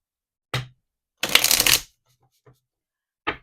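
Tarot timing cards shuffled by hand: a short riffle, a longer, louder burst of card flutter, then a faint tap and one final quick riffle, all close with silence between.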